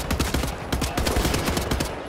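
Gunfire from Wolfenstein: The New Order: a rapid, steady burst of automatic shots, each a sharp close crack in a fast even rhythm, continuing loud through the whole stretch with no talk over it.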